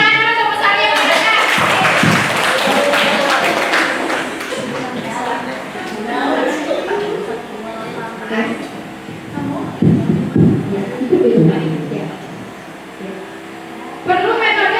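Participants at an Indonesian teacher-training session clap for their fellow attendees, the clapping mixed with voices talking over it, and bursts of claps rising and fading.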